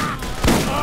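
Rapid gunfire in the co-op shooter game Borderlands, a short burst of shots with one sharp crack standing out in a dense, noisy firefight.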